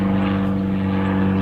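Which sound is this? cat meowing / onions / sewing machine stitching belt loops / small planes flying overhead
small planes flying overhead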